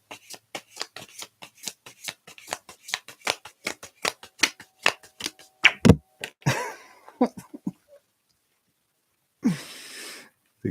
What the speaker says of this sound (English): Like I just shuffle them until they jump out of the deck.